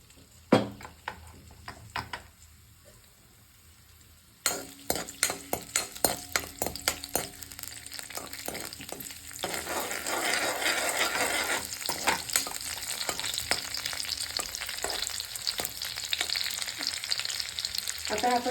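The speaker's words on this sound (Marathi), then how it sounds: "तर ह्याच्यामध्ये आपल्याला ना लसूण टाकायचं आहे" Finely chopped crushed garlic fries in a hot pan for white sauce pasta, a steady loud sizzle broken by clinks and scrapes of stirring, after some quieter kitchen knocks at the start.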